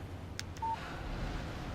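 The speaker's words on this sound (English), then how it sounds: "Text message from Barry." In the Alan Wake video game, a phone text message alert chimes briefly, a short electronic beep tone over a low steady background hum.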